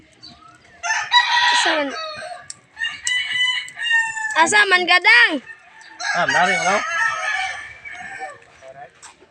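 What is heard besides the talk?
chickens and rooster crowing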